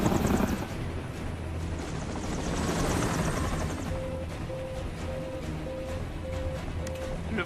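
A helicopter's rotor thumps and roars continuously throughout, loud and close, in strong wind in a horror film, with a steady mechanical drone and bursts of dramatic noise layered over it.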